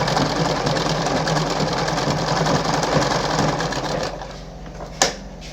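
A Singer 5107 sewing machine runs steadily through a blind hem stitch, its rapid rhythmic needle chatter loud and close for about four seconds before slowing and dropping off, with a single sharp click near the end.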